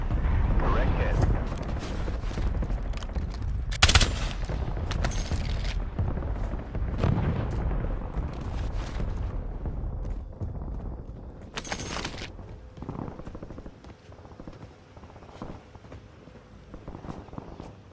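In the Black Ops 7 video game, an incoming air strike lands with heavy booming blasts amid bursts of gunfire. Explosions hit at intervals over a rumbling battle background, with in-game voice callouts mixed in.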